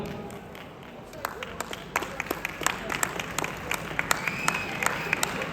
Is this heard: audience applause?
yes